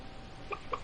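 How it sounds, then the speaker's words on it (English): Two quick clucks from chickens in the Stardew Valley video game, one right after the other, short and fairly soft over a low, steady background hum. "Yeah, free roam chickens!"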